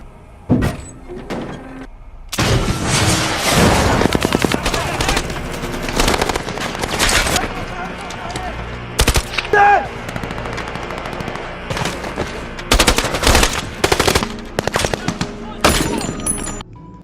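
Machine gun fire in a film firefight set inside an enemy base in Mosul, Iraq, with loud sustained bursts of automatic gunfire broken by short pauses and sharp single shots, dense and close throughout.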